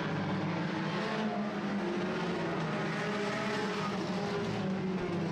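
Sport compact race cars running at El Paso County Raceway, heard as a steady, moderately distant engine roar that holds an even level throughout.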